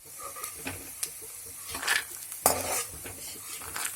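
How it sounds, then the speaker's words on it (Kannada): Fried peanuts scooped from a pan of hot oil into a bowl while making coconut rice: faint oil sizzle with scattered spoon scrapes and clinks against metal, a few sharper knocks standing out. "ಶೇಂಗಾ ಎಣ್ಣೆಯಲ್ಲಿ ಚೆನ್ನಾಗಿ ಫ್ರೈ ಆಗಿದೆ. ಸೊ ಅದನ್ನ ಇವಾಗ ಒಂದು ಬಟ್ಲಿಗೆ ತಕ್ಕೋಬೇಕು."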